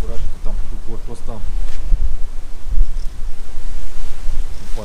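Strong wind buffeting at a truck parking lot in Patagonia, loud gusty roar and rumble throughout, with someone speaking over it.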